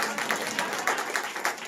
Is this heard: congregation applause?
yes